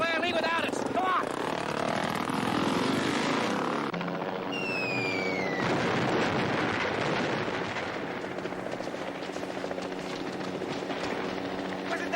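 A helicopter in a jungle action scene set on Devil's Island, its rotor drone running steadily and loud throughout, mixed with shouting voices, a sharp whistling streak and other action noise.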